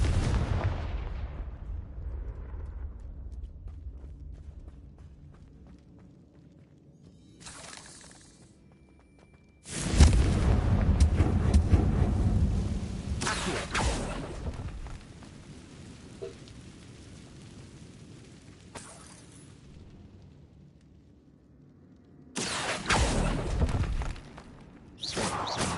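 Fiery Confringo spell blasts in Hogwarts Legacy, heavy crackling bursts that erupt suddenly, roar loudly and fade, with a second explosive burst near the end.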